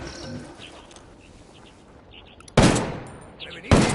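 Gunfire in Ghost Recon Wildlands: after a quiet stretch of ambient game sound with faint chirps, a loud, sudden volley of automatic fire erupts, pauses briefly, then another burst starts near the end.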